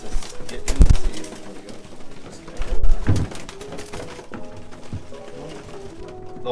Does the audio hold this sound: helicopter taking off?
no